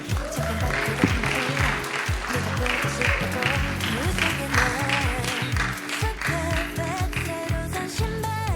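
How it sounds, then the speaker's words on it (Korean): An audience applauding during a church youth service, dense clapping under loud band music with a rhythmic beat and a voice talking over it. "저희 씨앗 나오실 때 큰 박수 부탁드리겠습니다."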